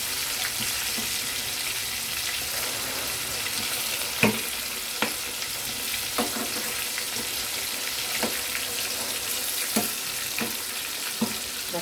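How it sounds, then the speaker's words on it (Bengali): Potatoes frying in a pan, a soft, steady sizzle heard close and fairly quiet, broken by several sharp taps and knocks as the pieces are turned over. "এইদিকে আলুটা প্রায় ভাজা হয়ে গেছে, একটু আলুটা আমি উল্টে দিলাম।"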